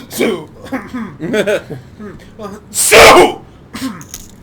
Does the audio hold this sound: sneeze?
yes